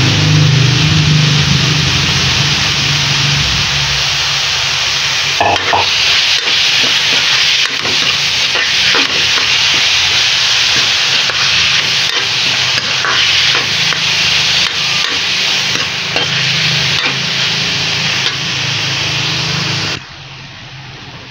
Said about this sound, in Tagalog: So, sangkutsahin po natin siyang mabuti guys.